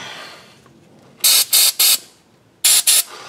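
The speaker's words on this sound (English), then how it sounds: "Brake clean again. Clean it up." Brake cleaner aerosol sprayed near the starter of a 2003 Hyundai Sonata: five short, loud hissing bursts, three in quick succession and then two more after a brief pause.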